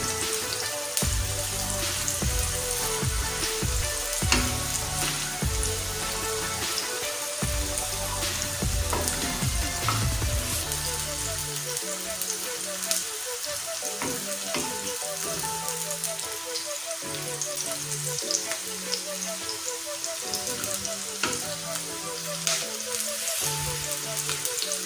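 Onions frying in a pan for kaleji pota masala, cooked until golden brown, give a steady, dense crackling sizzle throughout, with a few brief clinks of stirring, and no talk over it.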